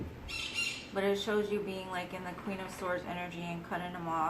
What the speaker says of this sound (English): Sorry about my birds.